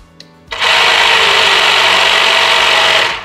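A Firman FTH24V battery-powered tea harvester and hedge trimmer starts abruptly after a faint click and runs at a steady, loud, high-pitched whir with buzzing blades for about three seconds, then begins to wind down.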